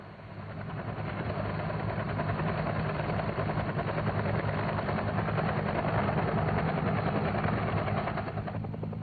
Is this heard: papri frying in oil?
no